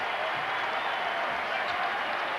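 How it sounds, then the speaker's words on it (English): A Tennessee home crowd applauds and cheers at a 2001-02 Syracuse vs. Tennessee college basketball game, a dense, steady wash of clapping and crowd roar that holds at an even loudness throughout. "A very appreciative Tennessee crowd tonight."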